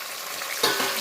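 Ingredients for bagara rice fry in a pan while being stirred, giving a steady close sizzling hiss that swells into a louder crackling burst partway through as the spoon turns them, with no voices.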